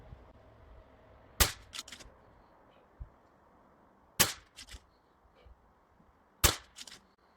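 An FX Panthera Hunter Compact PCP air rifle fires three sharp, crisp shots a few seconds apart, each followed by a short mechanical click and faint impact, outdoors and close.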